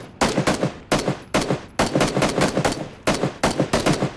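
Automatic gunfire in the battle-royale video game PUBG: repeated loud, close bursts of rapid shots, each run lasting about half a second with short pauses between, and no talking.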